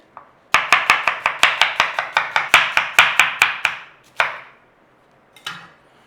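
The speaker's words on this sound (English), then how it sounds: "Now I'm just going to crack on and do this kilo of onions" A kitchen knife chops a kilo of onions on a cutting board in a fast, steady run of sharp taps, about a dozen in a row, then a pause, one more chop, and a final short scrape.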